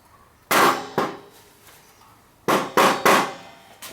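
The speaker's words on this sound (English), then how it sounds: "Then with a soft blow hammer or a mallet," A soft blow hammer taps a part out of a Zipp 177/77 rear hub: five sharp, close knocks come in two groups, a pair and then a quicker trio, each with a short ringing decay.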